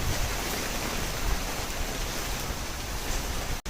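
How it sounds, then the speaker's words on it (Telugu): Steady rain pours onto an open home balcony while the sun is out, a dense, even hiss of water spreading across the whole clip without pause. "ఒక పక్క వర్షం పడుతుంది"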